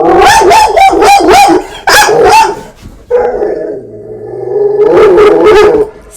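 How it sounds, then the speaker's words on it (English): A dog barks loudly and close in two quick bursts of sharp barks, then gives a low whine and growl, then barks again in another rapid burst, with no talk over it. "my dog is barking at the people mowing their lawn behind us."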